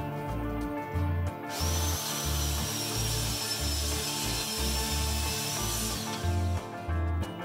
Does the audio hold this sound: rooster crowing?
no